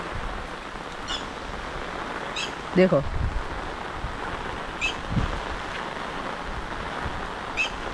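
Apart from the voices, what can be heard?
rain falling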